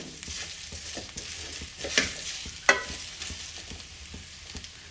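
Oil and mustard seeds fry in a pot for radish kara kuzhambu, producing a quiet continuous sizzle broken by a couple of crisp popping crackles and light stirring.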